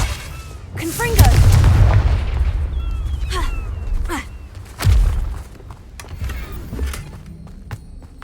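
A Confringo explosive fire spell cast in Hogwarts Legacy bursts with a deep booming thump, followed by crackling, whooshing magical effects and another heavy thud a few seconds later, with a voice speaking over it.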